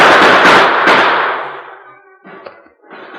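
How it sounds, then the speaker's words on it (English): A radio-drama gunfight among rocks: a few sharp gunshot cracks close together, then a decaying rumble and smaller ricochet-like impacts trailing off. "Bullets struck the rocks on all sides of the Lone Ranger as he unholstered his guns"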